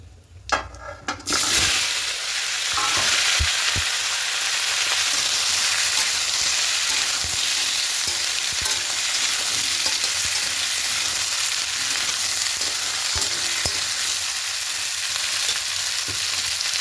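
Potato, pumpkin, cauliflower and peas hit hot tempering oil for a vegetarian khichuri and are stirred. A brief clatter comes first, then a loud, steady, close sizzle runs throughout.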